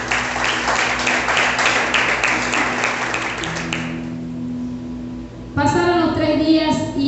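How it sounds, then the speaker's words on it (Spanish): A church congregation applauds during a sermon, with sustained keyboard tones underneath. The dense clapping runs for about four seconds, then thins out and fades, and a loud voice comes in at the end. "Denle un aplauso al Señor."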